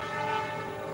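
A train's steady horn-like drone sounds at Manggarai, Jakarta, sustained and even throughout a brief moment.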